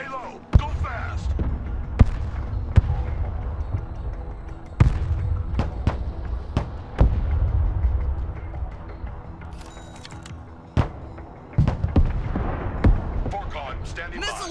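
Artillery fire mission in the Broken Arrow war game: sharp, separate booming impacts arrive every second or so, some loud and close, others fainter, over a rumbling battlefield bed with radio-style voices in between.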